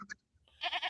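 Goat bleating in a short burst: a brief nasal call, a pause, then a louder wavering bleat, close and clear with no talk.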